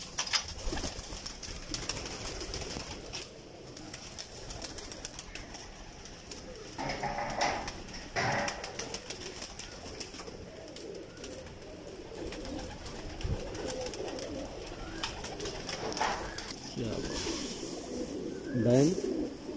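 Pigeons coo softly in the distance over a long stretch of outdoor ambience at a pigeon keeper's loft, with occasional rustles and a brief louder call near the end.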